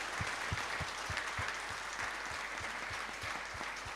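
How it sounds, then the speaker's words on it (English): A church congregation at an Easter Vigil Mass applauds the young prayer and singing group, with steady, moderately distant clapping echoing through the space, faint and without talk. "Let us give them a big round of applause."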